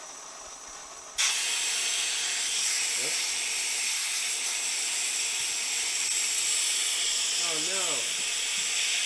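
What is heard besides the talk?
air hissing from failed valve of AirForce Condor air rifle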